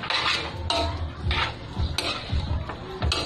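Beef kaldereta gets stirred in a pot, a ladle scraping and clanking against the metal in a loose repeating rhythm, close and clear.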